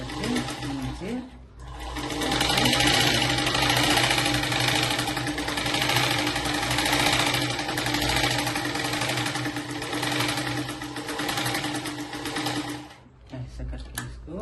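A sewing machine runs steadily, stitching a blouse with a boat neck and sleeve tucks, its motor humming loudly for most of the clip before briefly pausing near the end.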